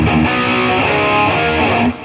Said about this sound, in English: And switch back to distortion.